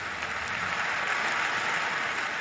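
Sustained applause from a large congregation in Westminster Abbey at Diana's funeral, a steady wash of clapping with no pauses.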